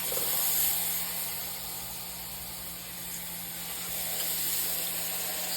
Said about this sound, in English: you want to start with putting your steaks into a heated pan